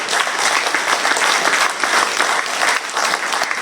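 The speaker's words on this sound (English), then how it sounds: "So let's give him a round of applause" Warm applause from a community forum audience on returned citizens, a full, steady burst of many hands clapping close by, with little talk.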